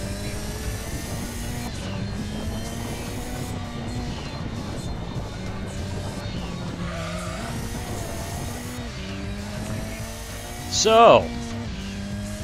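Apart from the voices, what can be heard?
rally car driving and skidding in video game Gran Turismo 2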